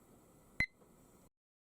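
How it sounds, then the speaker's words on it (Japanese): A single short, sharp beep from a timer starting sounds during glass lace rod making, clear against a quiet background hum. "タイマーがスタートします。"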